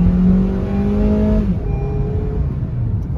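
An Opel Rekord car engine revs while the car reverses, a loud, steady drone whose pitch drops and settles partway through, close and unbroken with no voices.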